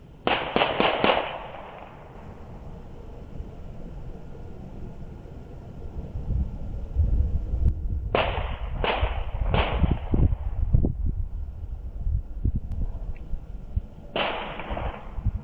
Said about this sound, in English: the sound of gunfire echoed through the neighborhood.